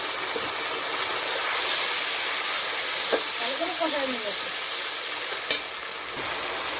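Ground spice pastes of cumin, ginger, chili and onion, with garlic paste, fry in a pan in a steady loud sizzle. A few clinks and scrapes of stirring cut through, and a voice speaks faintly in the background.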